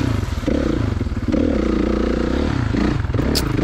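A 2016 Kawasaki KX450 dirt bike engine revs and bogs hard on a turn track at Johns Peak OHV, loud and close with throttle surges, clattering and no talk.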